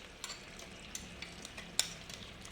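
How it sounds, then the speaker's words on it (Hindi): Chicken frying in oil with curry leaves gives a faint, steady sizzle broken by a few sharp ticks and scrapes of stirring, close and quiet, with no voices. "सीधा डायरेक्ट तेल और कड़ी पत्ता के साथ डाल दिया जाएगा फ्राई होने के लिए"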